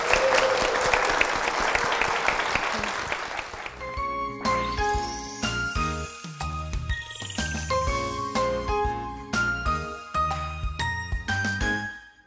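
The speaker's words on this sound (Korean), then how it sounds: "이 가정에 하나님의 축복이 임하시도록 큰 박수 부탁드립니다." A church congregation breaks into loud, dense applause for a family, which fades after a few seconds into gentle tinkling, bell-like music that carries on alone.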